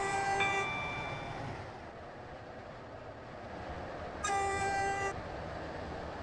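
A train in the Roblox game Stepford County Railway on the Waterline service sounds two tonal horn or chime blasts, one at the start and one near the end, over a steady low rumble of running carriages.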